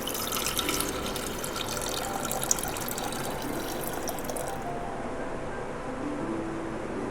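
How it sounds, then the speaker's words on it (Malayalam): Water pours and splashes steadily into a glass jar holding salt for several seconds, then the flow eases into quieter swirling as the mixture is stirred. "എടുത്തു വെച്ചിട്ടുള്ള വെള്ളം ഒഴിച്ച് നമുക്കൊന്ന് ഇളക്കാം."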